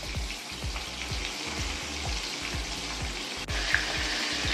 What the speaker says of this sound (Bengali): তাহলে বন্ধুরা মাছগুলো ভেজে নিই